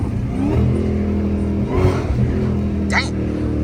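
A straight-piped Dodge Challenger Hellcat Redeye with 5-inch Carven exhaust tips rumbles loudly nearby, its deep, raspy engine note swelling in a couple of revs, while voices talk over it.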